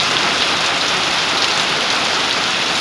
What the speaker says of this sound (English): It's been raining like this for 30 minutes now, that hard.